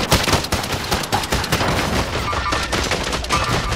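Rapid bursts of video game gunfire, sharp overlapping shots in a quick rattling sequence, loud and close with little talk over them.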